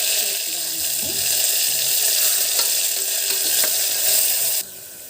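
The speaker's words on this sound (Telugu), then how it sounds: "ఆయిల్ కాగింది కొంచెం కొత్తిమీర వేసుకోండి" Coriander leaves tossed into hot oil for an Andhra-style mutton pulusu, a loud continuous close sizzle and crackle that drops abruptly near the end.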